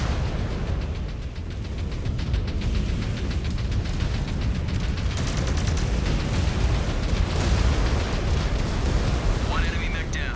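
Missile explosions rumble through a battle in MechWarrior 5: Clans as an enemy mech is destroyed, with loud sustained booming and crackling debris while voices speak over the din.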